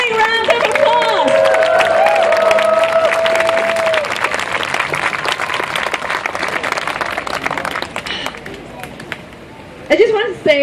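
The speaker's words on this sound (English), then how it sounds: "Let's give them a big round of applause." Applause from a large audience, dense and steady clapping with some cheering that fades toward the end, with a voice and a tone sounding over it early on.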